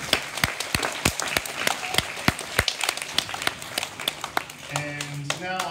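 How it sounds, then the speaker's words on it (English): Audience applause at the end of a class stage performance, steady crowd clapping with sharp individual claps, settling into quieter scattered clapping and murmuring voices near the end. "So can you just give those people a clap?"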